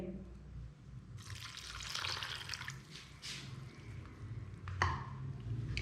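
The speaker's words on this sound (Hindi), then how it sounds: "अब इसके अंदर मैं ये यखनी शामिल करूँगी" Chicken stock (yakhni) is poured into a pakora batter mixture: a close, gurgling liquid pour lasts a couple of seconds, followed by softer wet squishing and a brief splashy patter.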